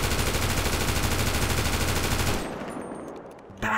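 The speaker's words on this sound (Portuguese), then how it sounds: "Áudio de arma, áudio de tiro, mano." A heavy machine gun in GTA 5 rattles off a rapid, sustained burst that is loud and dense, then stops abruptly and leaves a fading echo before a brief thump.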